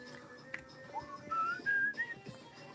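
Someone whistles a short rising tune, several clear sliding notes in a row, close and moderately loud over a quiet room background.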